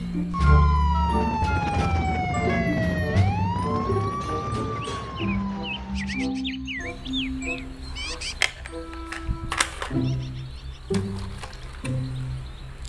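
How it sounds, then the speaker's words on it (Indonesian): A toy police siren whoops and falls in pitch, then gives way to beeping electronic tones and clattering toy sounds. "Mobil polisi."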